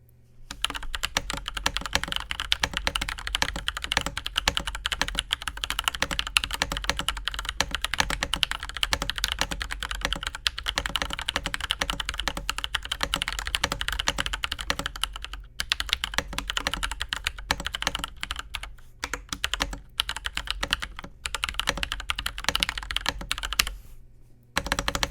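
Continuous fast typing on an MMD87 budget mechanical keyboard, a dense stream of deep thocky keystrokes close to the mic with a couple of brief pauses, no talking.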